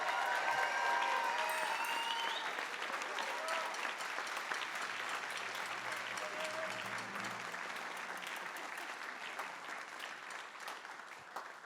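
A large audience applauds a band director at a spring cabaret concert after a Wind Ensemble performance, with dense, sustained clapping loud from the start and tapering slightly toward the end, plus faint crowd murmur.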